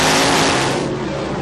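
A USAC sprint car engine at Salem roars steadily from onboard Brian Clauson's car, a loud continuous high-revving drone with no talk over it.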